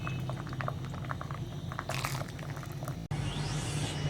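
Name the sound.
chicken pie frying in hot oil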